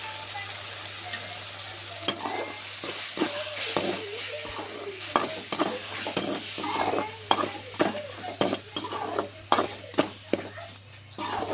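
Ginger and garlic with a pinch of turmeric powder frying in a pan for spicy pepper chicken gravy, with a steady sizzle under irregular, sharp spatula scrapes and clinks against the pan, close up.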